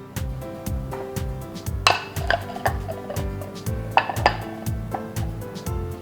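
Rice stir-fried with pork panang in a pan: a steady rhythmic run of metal spatula scrapes and clinks against the pan, close and regular, with no talking.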